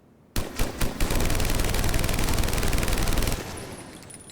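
Typhoon gun from Mass Effect 3 fires a few quick single shots, then one sustained rapid burst of about two and a half seconds at close range, cutting off into a fading tail.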